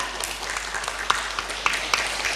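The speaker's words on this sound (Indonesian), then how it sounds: "tepuk tangannya buat ketiga dewan juri kita." Applause from the audience at a Quran recitation festival, honoring the three judges: a steady wash of many hands clapping at moderate distance, with a few sharper claps standing out, and no voices.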